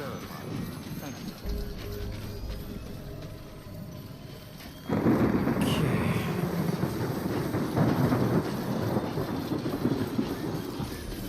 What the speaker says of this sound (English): Why does it sound like the thunder never gets quieter even though I'm like thousands of meters away